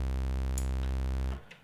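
Synced sine wave oscillators in Reaktor 6 produce a steady, loud, buzzy harmonic drone that holds evenly, then cuts off abruptly, leaving a brief faint tail.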